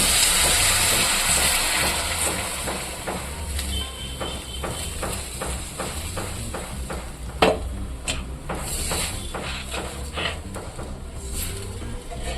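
A steady loud hiss and sizzle of water poured into a hot pan while cooking makhana soup, with rapid crackling pops running throughout.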